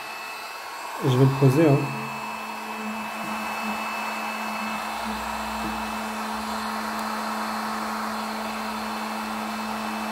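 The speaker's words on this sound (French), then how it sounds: "Le ventilateur est en train de continuer à tourner." A Parkside digital heat gun keeps its fan running while it cools down, a steady airy whir after a brief burst of beeps, with someone talking quietly over it at one point.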